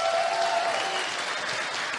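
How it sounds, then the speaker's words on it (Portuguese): An audience claps together in a short burst of dense, steady applause that fills the whole moment without any talking over it. "uma salva de palmas para eles"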